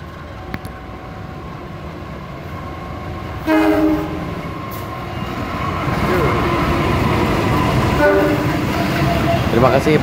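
A double-headed train of two locomotives hauling a single K3 carriage passes near a station after leaving Kuto Jaya in Indonesia, with a steady rising rumble of wheels and engines and two loud horn blasts.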